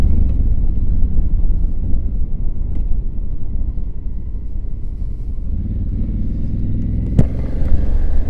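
A 2020 Honda Africa Twin 1100 motorcycle riding slowly in first gear through a town, giving a steady, close, low engine rumble with little change in pitch throughout.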